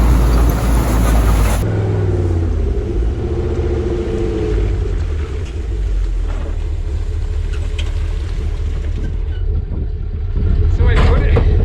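An old 4x4, a Land Cruiser FJ40 or Willys CJ2A, is started and runs with a loud, continuous low rumble that carries on to the end, and a voice talks over it.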